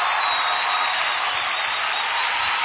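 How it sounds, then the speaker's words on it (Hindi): Steady, dense audience applause for an award winner, Dr. Roshan Jahan Sheikh, holding an even wash of clapping throughout with no voices on top. "जोरदार तालियां फॉर डॉक्टर रोशन जहान शेख।"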